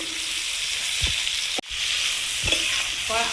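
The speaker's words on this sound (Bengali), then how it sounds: "এতেই ভেন্ডি ভাজা হয়ে যাবে" Okra frying in a pan over a low flame, a steady bright sizzle broken by a few scraping stirs and a brief clatter, close and without talk.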